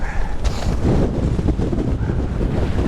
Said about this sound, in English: Very windy, I think.